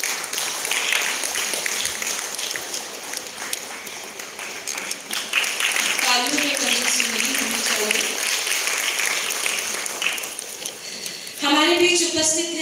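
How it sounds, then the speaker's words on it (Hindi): A crowd at a school Independence Day ceremony applauds to welcome the principal, with sustained dense clapping throughout and voices and a tonal sound rising over it later on. "जोरदार तालियों के साथ स्वागत।"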